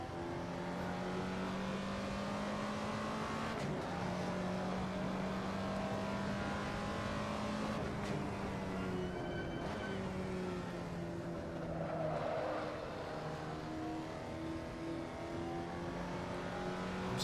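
Race car engine lapping Laguna Seca in the Assetto Corsa driving game, a steady loud drone with sustained harmonic tones that rise and fall through gear changes and revs, continuous throughout with no talk.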